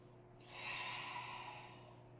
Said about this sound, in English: And 2 deep exhales.